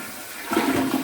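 A toilet flushes during a leak test after repair, a brief close rush of water surging in suddenly after a quiet moment, with no talking.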